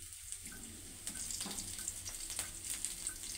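Onions and chillies fry in a pan for an egg dish, a soft steady sizzle with light crackles and faint clinks, quiet and close with no talk.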